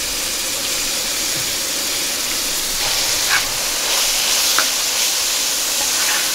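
Peppers hit a hot pan at a campsite, giving a steady, broad sizzle that continues throughout, with a couple of brief sharper crackles near the middle and no talk.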